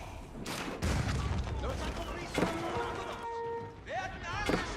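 Cannon fire booms repeatedly in a battle in the video game Age of Empires 4, sharp blasts spaced irregularly over a busy din of combat effects, with a commentator talking throughout.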